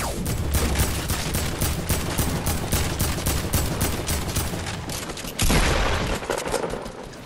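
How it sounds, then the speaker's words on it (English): Rapid video game gunfire rattles in dense bursts, sustained machine-gun style shots with booming impacts, loud and close throughout, briefly cutting out before resuming with a heavy burst. "Oh, we're being shot."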